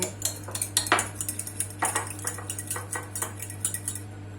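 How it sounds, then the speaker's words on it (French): Banana fritter batter is mixed in a bowl with a utensil: rapid, rhythmic clinks and scrapes against the bowl, close and clear, with no talking, over a steady low hum. "On mélange bien."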